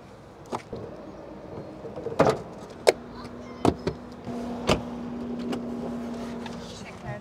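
An electric car being unplugged from a charger and pulling away, with a few sharp clicks and clunks, then a steady low electric hum under faint background voices.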